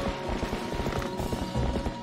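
Horse hooves clip-clop in a quick, even rhythm in the video game The Legend of Zelda: Twilight Princess, loud and close, with no talking.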